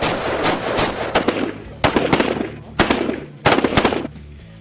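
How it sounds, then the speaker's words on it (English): Automatic rifle gunfire crackles in several sharp, rapid bursts separated by brief pauses, loud and close, with echoing tails. "Automatic rifles stand out for their repetitive and deafening shots."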